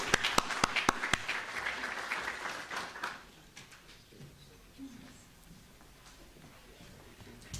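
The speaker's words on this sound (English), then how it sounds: "Let's give her a nice warm applause, please" Warm applause from a community gathering audience during a Hispanic Heritage Month event, a dense burst of clapping with sharp individual claps that fades after about three seconds into quiet room noise.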